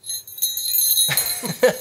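Small bells on a Santa hat jingle with a bright, shimmering ring that persists throughout, joined by soft rustling shakes in the second half.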